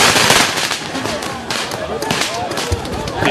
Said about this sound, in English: Rattle off your little firework